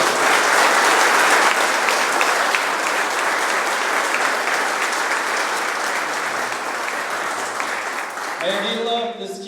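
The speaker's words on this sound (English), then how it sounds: "Let's give a big round of applause to former Mayor Dwayne DeLo." Loud, sustained crowd applause honoring a former mayor at a key-to-the-city ceremony, steady clapping throughout that thins at the end as a voice begins speaking.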